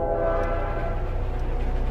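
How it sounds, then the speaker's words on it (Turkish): Train passing by with a loud, sustained rumble and horn-like tonal bands, a steady close roar throughout an animated scene. "Bir tane tren geçiyor şu anda oradan"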